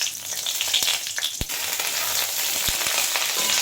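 Bay leaf and whole garam masala sizzle steadily in hot oil for a potol kalia, a dense crackling hiss close up with a few sharp pops, no talk.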